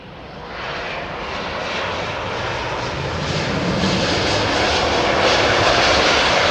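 At London Heathrow, a Boeing 757 jet airliner gives a broad, swelling engine roar that rises steadily from a quieter start and grows louder and nearer over several seconds, with no talk over it.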